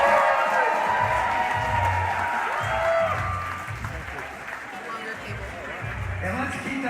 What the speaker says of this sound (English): can we get a big round of applause for all of the artists